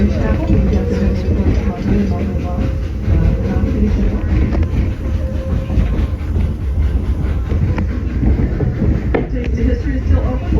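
A heritage railway train pulls into a station on a members' day, loud and close with a rumbling low roar, clattering wheels and hissing, while people talk nearby.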